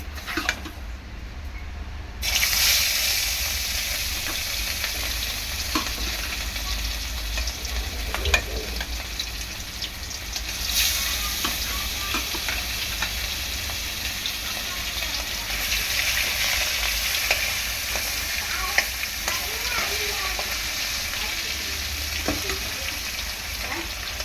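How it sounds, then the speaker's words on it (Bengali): Live fish fry in hot oil in a wok with a steady, close, full sizzle that swells partway through and keeps crackling with occasional spatters and utensil clicks, and no speech. "এখন দেখো মাছ কটা ভেজে ফেলবো।"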